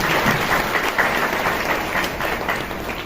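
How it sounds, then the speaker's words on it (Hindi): Steady applause from a church congregation clapping together in thanks to God, a dense, even patter of many hands that stays loud for the full stretch with no voices on top. "ताली बजा के परमेश्वर का धन्यवाद करें।"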